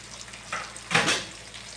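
Chilli powder, turmeric and spices sautéing in hot oil for a rohu fish kalia curry, a soft steady sizzle with two brief louder bursts as the masala is stirred.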